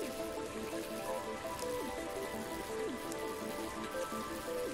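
Rain falls steadily in the VR game Ultimate Fishing Simulator, a soft continuous patter on the water's surface that holds even throughout, with layered background tones and reel sounds underneath and nobody speaking.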